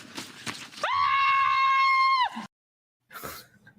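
A character from the TV series Gotham lets out a ridiculous, high, strained scream with a tight bleating quality, held for about a second and a half, loud and close between short bits of background noise.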